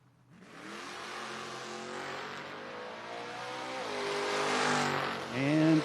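A door car in a drag race gamblers class makes its pass, the engine revving hard and climbing in pitch as it accelerates down the strip, loud and close, with a sharp rise near the end.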